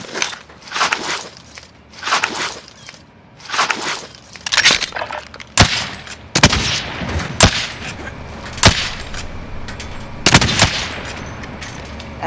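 Bursts of shooter video game gunfire, rapid rattling volleys followed by several sharp, isolated loud shots, spaced irregularly and fairly close, with almost no talking.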